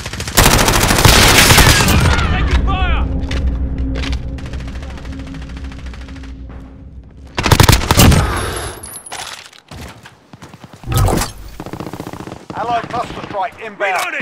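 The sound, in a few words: gunfire in a video game shooter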